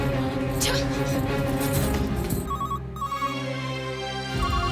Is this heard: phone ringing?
yes